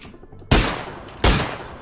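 Gunfire in PUBG: two loud, close shots about three quarters of a second apart, each a sharp blast followed by a decaying tail.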